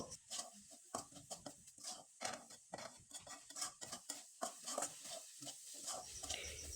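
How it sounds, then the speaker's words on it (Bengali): Coconut and jaggery filling being stirred in a pan, with a spoon repeatedly scraping and clinking against the metal in an irregular rhythm, close and moderately loud, with no talking. "এখন আমি খুব ভালোভাবে নেড়ে চেড়ে একবারে শুকনো শুকনো করে পুরটা আমি তৈরি করে নেব"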